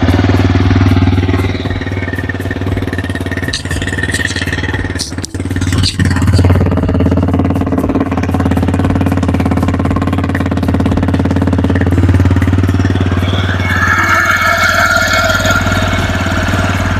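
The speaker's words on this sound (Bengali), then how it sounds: "ইঞ্জিনটা স্টার্ট করি, সাইলেন্ট স্টার্ট, কোনো রকম কোনো শব্দ হয় না" A TVS Raider 125 motorcycle engine idles steadily at close range, with a low, even running tone and some mechanical clatter, plus a brief knock partway through.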